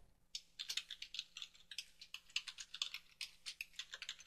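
Typing on a computer keyboard during electrical system setup in Revit MEP software: a quick, close run of light key clicks in an uneven rhythm, with no one talking.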